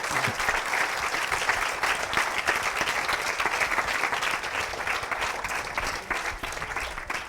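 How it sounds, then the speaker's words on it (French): Sustained audience applause at a 2018 social selling business conference in Nantes, a dense, steady wash of clapping from a seated crowd that holds even throughout and tapers only slightly near the end. "Merci Vincent, on l'applaudit bien fort."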